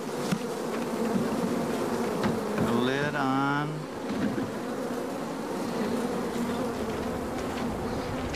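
A dense swarm of honey bees hums steadily and close as they are poured into a hive, with a brief spoken remark partway through.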